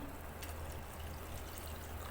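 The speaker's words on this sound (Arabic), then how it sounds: "احط له كمان شويه ميه صغيرين اهو" A small amount of water is poured into a cooking pot in a home kitchen, a faint, quiet trickle over low steady background noise with no talking.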